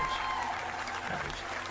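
A live crowd breaks into steady, dense applause, a continuous wash of clapping that fills the whole moment at an even level, with voices mixed into the noise.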